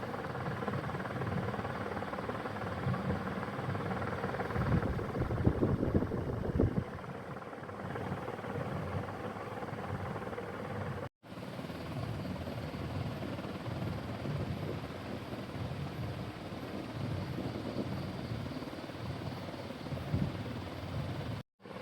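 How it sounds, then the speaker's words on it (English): A Crompton Greaves HS48 high speed 48-inch ceiling fan, around 370 rpm, runs with a steady broadband whoosh of moving air that continues nearly unchanged throughout, briefly cutting out once midway. "So now let me turn off the fan."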